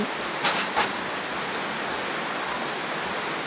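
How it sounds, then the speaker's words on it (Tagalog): Heavy rain pours down steadily as a dense, even hiss that fills the space throughout, with a couple of brief louder patters early on and no voices. "Lumakas na ang ulan."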